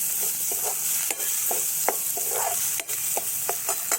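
A spoon stirs an onion masala mixture in a pan, giving soft irregular scrapes and taps over a steady faint sizzle, close and alone with no voices.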